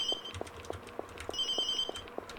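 A telephone ringing in a Korean RPG Maker horror game, 'Clear Day', with bright repeating electronic rings in two bursts over a soft, evenly pulsing low tone, no talking.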